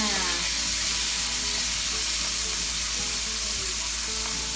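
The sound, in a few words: rabbit meat simmering in a pan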